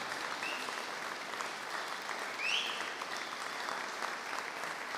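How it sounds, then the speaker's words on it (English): Steady, dense clapping from an audience fills the space after a Capital City Jazz Orchestra set at the Caerleon Festival in a church. It holds at an even level throughout with no voices over it. "Can you give the Capital City Jazz Orchestra a round of applause"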